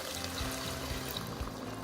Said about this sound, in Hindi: इसमें हम थोड़ा सा पानी डाल देंगे